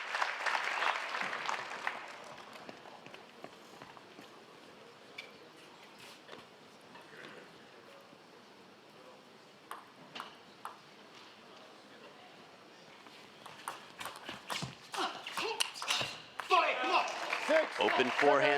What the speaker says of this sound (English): the slow clap starts in support of Mattias Karlsson